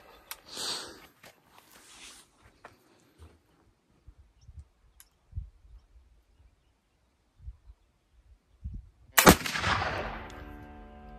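A black powder gunshot in an iron oxide test cracks out loud and sharp near the end, followed by a decaying rumble, after a stretch of faint rustles and quiet movement.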